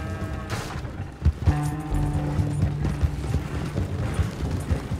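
In the video game Red Dead Redemption 2, a horse gallops with quick clip-clopping hoofbeats over a busy mix of game noise, a clanking thud, and a brief musical tone.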